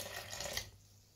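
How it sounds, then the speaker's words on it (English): Water mixed with dried yeast and sugar being poured into homemade pizza dough, a close, steady splashing pour that stops partway through. "Now it's time to add in the water, which I put the dried yeast in and sugar in."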